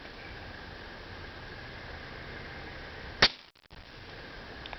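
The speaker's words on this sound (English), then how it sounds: "Remember, this one is at 60 foot-pounds, approximately. All right, first shot." A Taipan .22 PCP air rifle set to about 60 foot-pounds fires a single sharp, fairly quiet crack partway through, over steady background hiss, followed by a short dip in noise.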